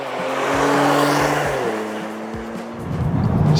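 A 2022 Genesis G70's twin-turbo engine and opened-up sports exhaust in Sport Plus rev sharply, rising and falling several times with throaty pulses and brief pauses between blips, loud and close.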